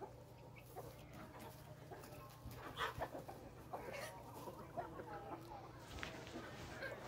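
Chickens, one of them sick, cluck softly in scattered bursts over a low background hum, fairly quiet and close.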